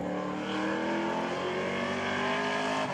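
A race car at Hudson Speedway comes around the oval with a loud, continuous engine roar, pitch shifting slightly as it passes through the turn, steady and strong throughout the clip.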